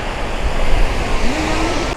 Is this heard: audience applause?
no